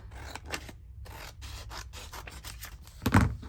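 Scissors trim fabric on the edges of handmade journals, giving a series of close, soft snipping and rubbing cuts followed by a louder rustle of the material.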